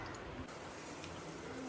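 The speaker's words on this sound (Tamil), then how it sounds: "நல்லா ஒரு டம்ளர் தண்ணி விட்டுருக்குறோங்க, வேகட்டும்" Water poured from a tumbler into a cooking pot for boiling in an outdoor home kitchen, a steady close pour with a brief shift partway through.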